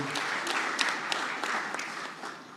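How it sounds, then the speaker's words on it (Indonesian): Applause for the party chairwoman at a political announcement naming a vice-presidential candidate: steady, fairly faint clapping from a crowd, heard as a distant wash with no talk over it. "kita berikan tepuk tangan yang meriah bagi Ibu Ketua Umum"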